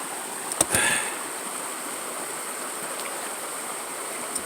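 Gold is being panned in a stream over bedrock at an inside bend: a continuous rushing of water, with a couple of brief sharp splashes and clinks near the start.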